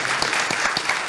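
Applause from an audience at a Brazilian public hearing on bank branch Saturday hours, a steady dense patter of many hands clapping throughout, fairly loud and without talk.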